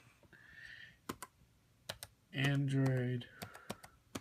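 Fingers tap out bursts of clicks on a computer keyboard near the microphone, sharp and uneven, while someone speaks briefly in the middle.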